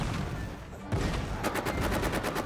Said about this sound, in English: That sounded like a painful artillery shell landing on my left.